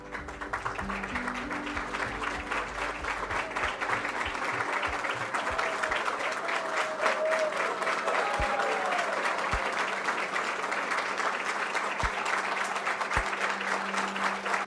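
Sustained applause from guests at an honorary doctorate ceremony for João Cláudio Todorov, a steady, fairly distant roll of clapping with a low hum and occasional thumps beneath.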